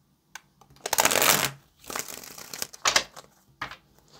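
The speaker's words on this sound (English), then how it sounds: "let's go ahead and get this last shuffle and then get into it" Tarot cards riffled and bridged in several quick bursts of papery rustling and flicking, close by, with short pauses between shuffles.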